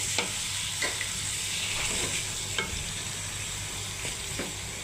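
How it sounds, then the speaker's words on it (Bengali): Fish roe frying in a pan with ginger, garlic, onion and chili powder, a steady bright sizzle broken by several sharp scrapes and clacks of stirring, close up and without voices. "আমি এখন মাছের ডিম রান্না করব।"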